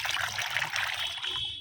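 Water trickles and splashes steadily as it is poured and stirred into a mix for flowering hibiscus plants, a continuous close liquid dribble that tapers off near the end, with no talking.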